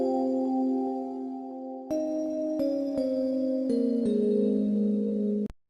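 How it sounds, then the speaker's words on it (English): Sustained bell tones in a pop remix trace a vocal melody, each note ringing out and stepping to new pitches over several seconds, alone and fairly soft before a sharp cut at the end. "some bells that just follow the vocal melody"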